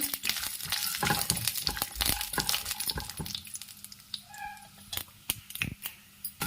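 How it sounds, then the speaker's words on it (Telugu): Peanuts fry in oil for sabudana khichdi, with bursts of sizzling and sharp clinks and scrapes of stirring against the pan, easing into quieter crackles and scattered taps. "కొంచెం పల్లీలు ఫ్రై అవ్వాలి"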